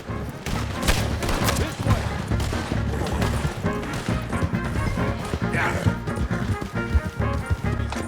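A dense, chaotic gunfight with horses in the video game Red Dead Redemption 2, heavy gunfire cracks and crashes piling up continuously, loud and close, with shouted voices mixed in.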